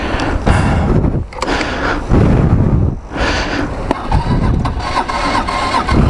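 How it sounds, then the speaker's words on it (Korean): A scooter's engine cranks repeatedly in winter with a weak battery, struggling to start: several bursts of strained, laboring starter-motor churning separated by brief pauses, loud and close, with no speech. "시동 안 걸리네"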